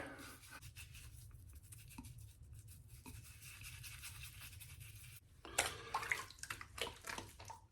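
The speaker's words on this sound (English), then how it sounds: "So what I'm doing right now is not so much lathering, even though it is the lather." Shaving lather brushed onto a face before a straight razor shave, a soft continuous wet scrubbing with a louder burst of brushing near the end, no talk.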